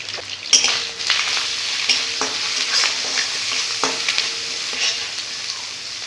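Chilli and turmeric powders stir-fry in hot oil in a pan for sabzi paneer. A bright, steady sizzle runs throughout, with several sharp spoon scrapes and knocks against the metal.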